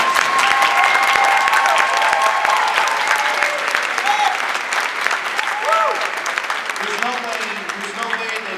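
Steady applause from an audience of parents and guests at a high school winter concert, loud and dense throughout, fading slightly near the end as a voice begins to speak over it.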